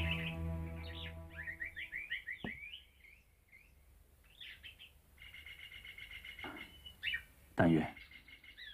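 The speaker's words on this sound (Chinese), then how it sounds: "这清晨的鸟鸣会给父亲带来一天的好心情。" Small birds chirping and trilling in the early morning outside an opened window, with quick bright phrases and short whistled notes, fairly faint and spaced out, over a quiet room tone.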